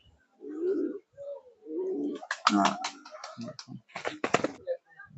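Fancy pigeons cooing in a village breeding loft, soft low coos near the start, then people talking close by with clicks and handling noises.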